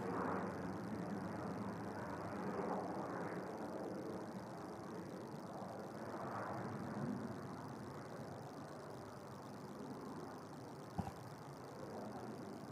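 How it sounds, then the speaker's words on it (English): An empty Tui airliner positioning to Hanover departs Manchester Airport, a steady broad engine roar that swells and fades gently at a distance with no talk. "the Tui, as you would expect, flying empty, just positioning to Hanover"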